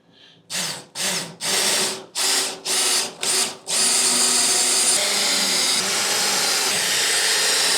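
A power drill whirs in several short, close bursts while fitting a wheel chock to a motorcycle trailer, then runs in one long continuous whine to the end.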